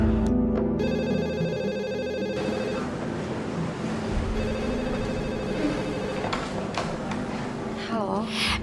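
A telephone rings with a repeating electronic bell pattern during a tense phone-call scene in an Indonesian soap opera, the ringing clear and fairly loud over a busy background of music and ambient sound.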